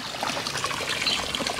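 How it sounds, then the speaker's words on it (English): Water from a garden hose trickles and splashes steadily into a tub being filled for a muddy pig's bath on a homestead, a close, continuous liquid gurgle with no talking. "I'm gonna go turn your water off."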